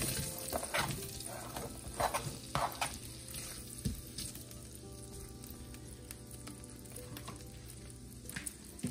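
Potatoes fry in melted butter in a home kitchen pan, giving a steady, close sizzle with a few louder crackles and the occasional stir, with no one talking.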